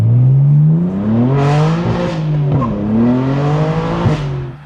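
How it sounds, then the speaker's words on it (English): Loud, close BMW M3 exhaust with a steady deep drone and rising and falling engine tones, punctuated by a few crackling burbles. "Is it like unbelievably loud? Nah, it's just burbly. Very burbly."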